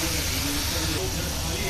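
Shrimp and onion fry in a hot pan with a steady, even sizzling hiss that holds at a constant level the whole time.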